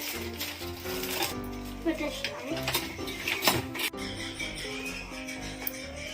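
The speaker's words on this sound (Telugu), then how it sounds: "ఇప్పుడు మిక్స్ చేద్దాం" Chopped onions are stirred into a bread omelette egg batter, with clinking and scraping of a utensil against a bowl and a few louder knocks, close up while a person talks over it.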